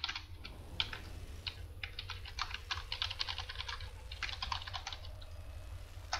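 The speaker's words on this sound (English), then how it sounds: "I'm just going to type in my YouTube channel." Rapid typing on a computer keyboard, a steady run of close, crisp key clicks in quick irregular bursts with brief pauses, heard alone over faint background hum.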